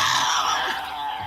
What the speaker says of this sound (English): This is what the real Tasmanian devil sounds like